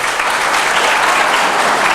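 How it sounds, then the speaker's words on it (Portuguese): A congregation at a church gathering bursts into loud, dense, close applause, a continuous roar of many hands clapping together. "dá uma salva de palmas para ela"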